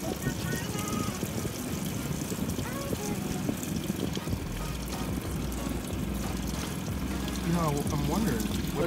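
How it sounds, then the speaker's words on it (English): Water pours steadily into a compact Costway RV washing machine, a continuous splashing trickle with people talking over it and some wind noise at the microphone. "We're gonna add a little bit more water because it should be kind of floating in there."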